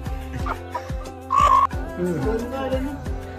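A rooster clucks repeatedly at close range, in short rhythmic bursts, with a brief higher squawk in the middle and faint background noise.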